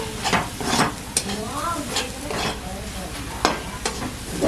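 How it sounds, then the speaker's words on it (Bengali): A spiced potato mixture fries in a pan for shop-style chop while a utensil stirs it, giving scraping strokes and clinks over a continuous sizzle, close and fairly loud. "মশলাটাকে একটু ভালো করে নেড়ে নিতে হবে।"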